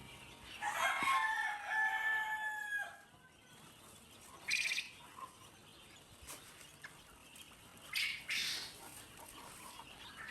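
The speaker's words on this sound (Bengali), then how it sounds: "খাবার দেওয়া মাত্রই কিন্তু পাখিগুলা খাবার খাওয়া শুরু করছে" Pet birds at feeding time call out loudly in bursts, with sharp squawks and restless fluttering, close by and with no talking.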